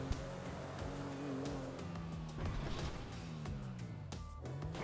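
A 4x4 off-road car in GTA 5 climbs a sloped track, its engine droning and shifting pitch steadily with small knocks and tire noises, continuous and moderately loud.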